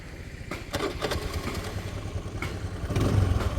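A motorcycle's self-starter fires the engine with a quick electric crank and a catch, then a loud, close, steady idle that swells slightly toward the end.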